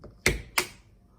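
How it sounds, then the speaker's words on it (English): Scissors poke a hole into a craft color spinner, giving two sharp, close taps about a third of a second apart with quiet between. "make sure you grab a pair of scissors like this so that you can poke into it"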